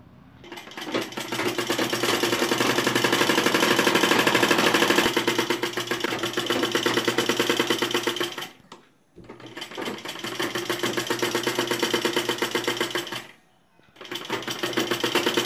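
A sewing machine stitches a collar onto a garment neckline, running loud and steady in long continuous bursts with two short pauses between runs.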